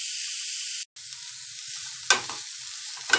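Chopped vegetables for veg fried rice stir-fried in a pan over a medium-high gas flame, giving a steady bright sizzle with a brief dropout near the start and a few sharp scraping spatula strokes toward the end.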